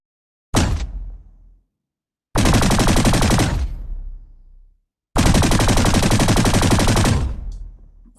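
Three long synthesized gunfire bursts with a sped-up automatic fire rate, built in Krotos sound design software, each a loud rapid rattle that tails off, separated by brief silences.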